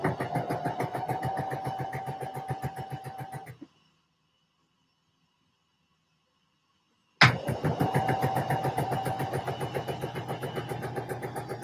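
A sewing machine stitches the seams of a Vogue 9345 dress with a rapid, even mechanical chatter that stops abruptly for several seconds of silence, then starts again at the same steady pace.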